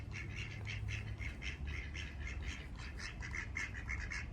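Several ducks quack and squawk loudly and repeatedly nearby in a busy, overlapping chorus that runs without a break. No one talks over them.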